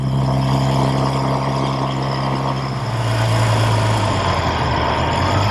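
An original 1969 Triumph Daytona 500 motorcycle engine drones loud and steady while being ridden, a continuous buzzing roar whose pitch shifts lower partway through as if the revs change, with no voices.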